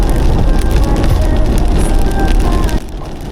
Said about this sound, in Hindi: मज़ेदार बारिश में आप ड्राइव करते हुए दिल्ली कटरा एक्सप्रेसवे।